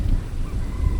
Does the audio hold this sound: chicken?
yes